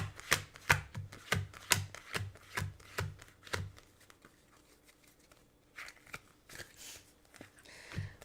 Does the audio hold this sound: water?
no